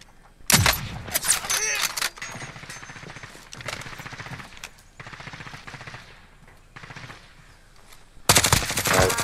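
Gunfire in a video game, with loud rapid automatic bursts at the opening and close and scattered shots and rattles in between. A voice speaks briefly under the shooting.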